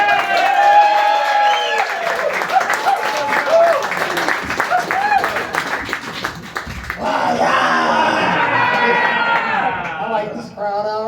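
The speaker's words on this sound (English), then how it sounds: "Put your hands together for Hurley King." An audience at a comedy competition semi-final in a Lawton, Oklahoma club claps and cheers loudly for a comedian, with whoops and shouts over dense applause that swells again after a brief dip.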